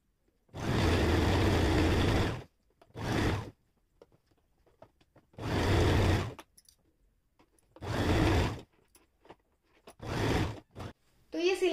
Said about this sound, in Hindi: यहाँ पर एक पैर का मार्जिन लेते हुए पूरे में बिल्कुल सीधी सिलाई लगाकर इसको इसके साथ अटैच कर देंगे